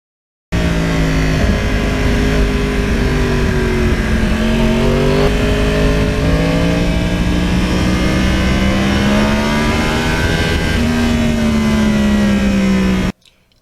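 A 2009 Yamaha R1 crossplane sport bike engine revving close by, a loud continuous mid-pitched growl whose pitch rises and falls through several throttle blips before cutting off.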